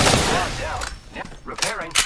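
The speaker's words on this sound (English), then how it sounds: "The enemies are shooting at me." Enemy gunfire in Apex Legends, a battle royale shooter: several quick bursts of rapid shots over busy game sound, with a voice faintly mixed in.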